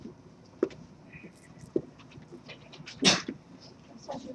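A sneeze bursts out once in a classroom during a trigonometry lesson, a single sharp loud puff standing out from quiet room noise and a few soft knocks.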